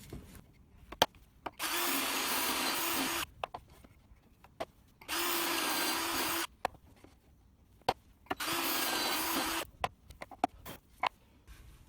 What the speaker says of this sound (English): This section of framework that I'm just screwing to the floor here